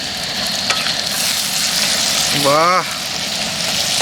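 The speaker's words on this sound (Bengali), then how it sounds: "চর্বিগুলো এখনই দিচ্ছি, চর্বিগুলো তেল ছাড়বে।" Mutton fat sizzles and crackles steadily as it is fried and stirred in a pan for mutton curry in a rainy-season mango orchard. A voice gives a brief exclamation over the frying.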